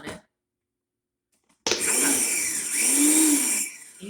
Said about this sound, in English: food processor. You don't want it mush. But you don't want giant pieces either.